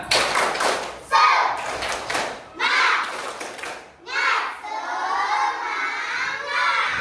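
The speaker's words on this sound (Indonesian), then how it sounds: "Coba berdiri dulu semua, kita tepuk semangat yang keras" Indonesian classroom students standing for a loud rhythmic spirit clap, bursts of group clapping and shouting children's voices in chanted sections with brief gaps between them.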